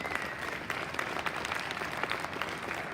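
Audience applause at a live mining industry competition event, a steady wash of many hands clapping throughout, moderately loud and continuous with no talking over it.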